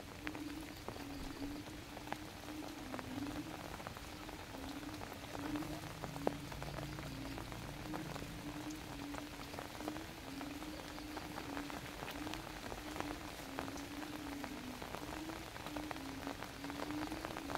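Steady rain falls outdoors in a lychee orchard, a dense even patter of drops on surfaces that continues without a break, moderately close with no voices.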